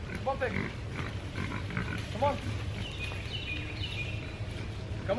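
Short grunts from Berkshire pigs in a wooded area come in a few separate bursts, mixed with a person calling out to the animals over a low outdoor background.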